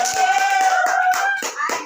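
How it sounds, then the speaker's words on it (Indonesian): A few classmates clap in a classroom during a science lesson, several sharp, uneven claps in quick succession over a sustained tonal hum, close and fairly loud. "Tepuk tangan untuk Meli."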